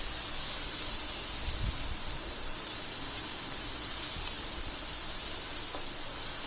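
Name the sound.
stirring tomatoes and onions on hot tava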